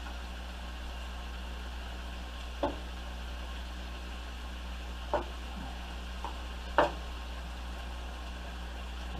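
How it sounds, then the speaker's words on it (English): A knife cuts steak in a frying pan over a steady low hum, with three or four sharp, distinct taps of the blade against the pan spaced a few seconds apart. "Try not to scrape the bottom of my pan with my knife."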